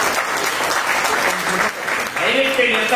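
Audience applause at a felicitation ceremony for achievers in Honnavar, a dense steady clatter of many hands throughout, with a voice speaking over the final second.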